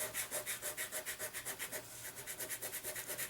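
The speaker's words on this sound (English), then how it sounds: "And now I'm going to polish that glitter." Microfine silk glitter is rubbed onto double-sided adhesive with a soft brushing stroke, a quiet rhythmic swishing repeated evenly back and forth, close and faint.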